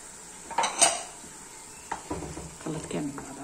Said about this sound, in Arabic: هنا رايحه نضيف الطماطم